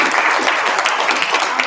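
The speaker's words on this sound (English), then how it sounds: "Round of applause." A round of applause from an indoor audience at a company road show, dense and loud, a steady wash of many hands clapping with no break, heard alone.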